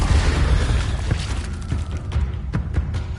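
A fire spell blast in the Hogwarts Legacy video game, heard as a series of booming, crackling bursts with a sharp pop near the end over a dense low rumble of game sound, close and loud.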